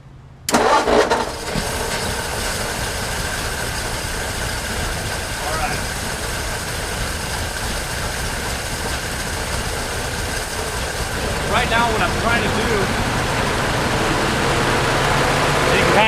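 A 1937 Ford engine, running on old fuel, cranks and fires abruptly, then settles into a loud, steady, rough idle close by that grows slightly in the last seconds as it leans out, with brief voices in the background.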